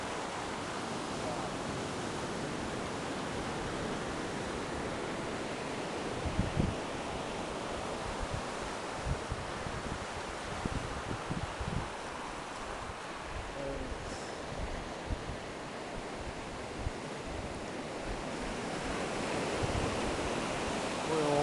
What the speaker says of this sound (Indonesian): Ombak.